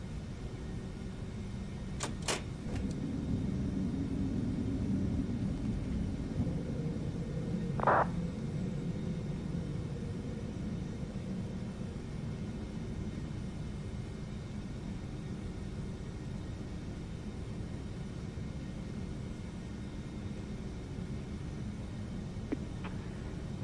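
TFDi Boeing 717 climbing out of Venice after takeoff in a flight simulator, a steady broad jet engine roar held at a constant level throughout, with a couple of brief clicks early on and a short tonal beep midway.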